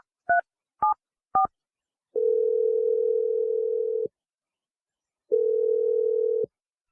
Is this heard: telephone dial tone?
yes